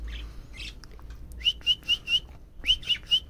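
Budgie chicks chirp at close range in a series of high, thin, repeated calls: a first run of four and then another run of three after a brief gap, over a soft background hum.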